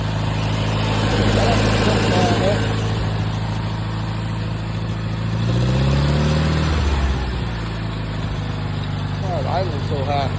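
A Farmall 230 tractor engine with an untouched carburetor idles high at its first start, a loud, steady running drone that swells slightly midway, with someone talking over it.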